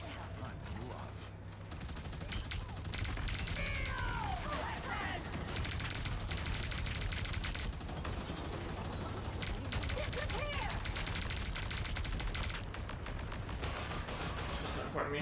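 Heavy-weapons gunfire in the game Marvel Rivals, steady shooting and mechanical clatter throughout, with a voice talking over it.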